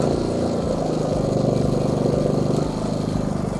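A Hyundai HHY 9050Si inverter generator runs with a steady, close mechanical drone that eases slightly in level toward the end as its engine speed falls.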